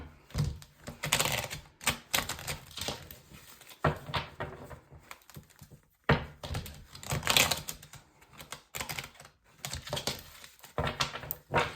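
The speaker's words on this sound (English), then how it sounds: "I'm going to shuffle the deck real quick." Rapid papery flicking and riffling of cards in repeated bursts, close and fairly loud, with brief pauses between shuffles.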